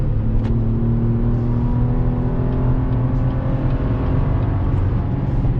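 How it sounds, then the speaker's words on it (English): A 2021 GMC Canyon AT4 off-road truck on all-terrain Goodyear Wrangler tires drones and whines steadily, pitch climbing slightly as it accelerates, tires screaming, with a constant rough rumble underneath. "Those all-terrain Goodyear Wrangler tires screaming for mercy."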